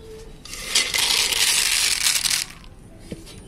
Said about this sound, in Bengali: বাদামগুলো আমি ভালো করে ভেজে নিয়েছি, এখন আমি উঠিয়ে নিব।